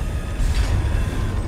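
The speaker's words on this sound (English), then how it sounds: "The train comes in, facing forward, but leaves in reverse." A train in a factory-building game rolls through a station with a continuous low rumble and a faint rising hiss, moderately loud and steady, with no talking.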